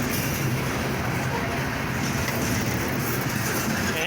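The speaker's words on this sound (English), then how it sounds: "This guy's got a long train. He's got like a lot of tankers on this train." A long CSX freight train hauling many tank cars rolls past Woodbourne station, a steady broadband rumble and rattle of wheels on rail that holds constant throughout, with no clear voices over it.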